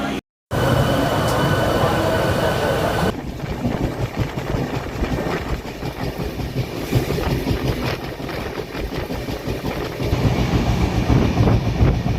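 A passenger train from Kolkata to New Jalpaiguri, number 15959, rolls along slowly, steady rumbling with wheel clatter and some squeal, loud and close from inside the carriage, after a brief silent gap at the start.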